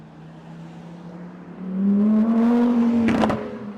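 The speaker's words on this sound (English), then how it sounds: "A Lamborghini, a loud Lamborghini just rode by with the number 29 on it" A loud Lamborghini race car numbered 29 drives by on Sunset Boulevard, its engine note rising from a low hum into a strong, close roar that peaks and then fades, with a brief clatter near the end.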